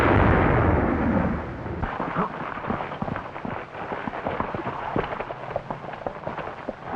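A deep rumbling mine blast opens, followed by a long stretch of crackling, rolling detonations and debris-like clatter, sounding distant and continuous.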